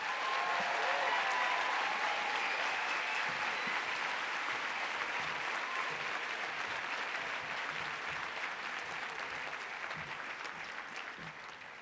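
A large commencement crowd applauds the graduating BA-MA class, a dense, continuous clapping that holds steady and then slowly tapers toward the end.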